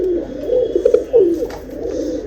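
Ferozpuri pigeons coo nearby in a short run of soft, throaty, rolling coos, several overlapping calls within a couple of seconds.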